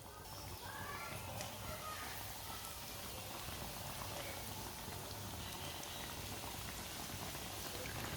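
Bread slices frying in oil in a pan for cheese sandwiches give a steady close crackling bubble that carries evenly from start to finish, with no talk over it.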